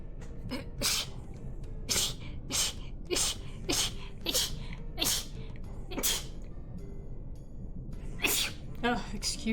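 Several sharp, explosive sneezes burst out in a quick run, some close together and others spaced apart, with one more after a short pause, from a person at an indoor desk, loud and close.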